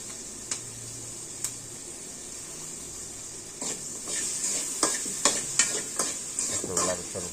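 Chilies fry in hot oil with a soft steady sizzle, as a utensil stirs and taps the pan in sharp, irregular clicks that grow busier toward the end.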